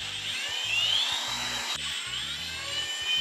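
A power screwdriver driving drywall screws, a short whining motor buzz that stops and restarts in quick bursts, close and alone without talk.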